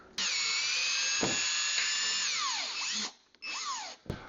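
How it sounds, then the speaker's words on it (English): A power drill driving a screw into a self-tapping drywall anchor, a whining motor that runs steadily for about three seconds, winds down with a falling pitch, then briefly spins up again. "Then you can drive your screw."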